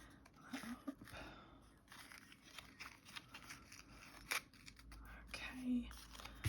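Scissors snip through gift ribbon during a craft wrap-up, a few faint quiet cuts and rustles sitting under a person's talk.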